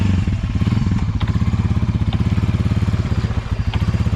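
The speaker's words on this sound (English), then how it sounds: "Let's engage four-wheel drive and see how deep we can go." An ATV engine, a 300 with a snorkel, chugs loudly and steadily in four-wheel drive while driving deep into a pond, a rapid regular thumping pulse with splashy clatter, close by and without talk.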